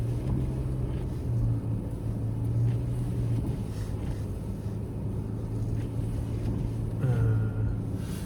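Steady low engine drone and road rumble from a car driving along a snow-covered road in Canada, continuous and fairly loud with wind noise, no talk over it.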